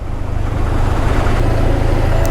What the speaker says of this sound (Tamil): டிராஃபிக்கு பாரு,